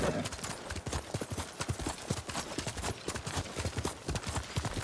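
Horse hooves clip-clop in the PS5 game Ghost of Tsushima Director's Cut as mounted riders set off, a dense, steady galloping patter that runs loud and close through the whole stretch.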